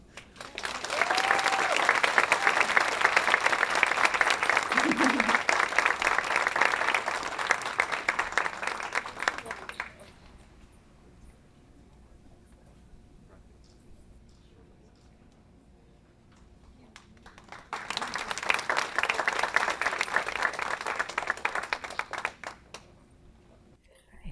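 Audience applause at a VA healthcare awards ceremony, a sustained burst of clapping for about ten seconds, then a quieter gap with faint voices, then a second round of applause.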